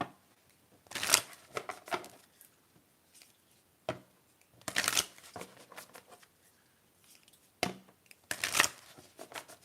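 Moonology oracle cards being shuffled in close, crisp bursts of riffling and flapping, three main rounds separated by quiet pauses, with no talking.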